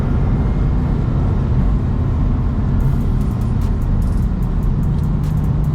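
A BMW M4 being driven, its engine giving a loud, steady low rumble with road and wind noise throughout, no pauses.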